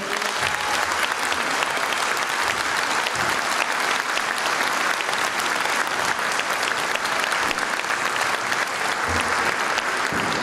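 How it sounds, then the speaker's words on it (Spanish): A large audience at a children's folk music gathering in Frutillar, Chile, applauds in a dense, sustained roar of clapping that stays loud and even for about ten seconds. "Un aplauso para todos ellos, por favor."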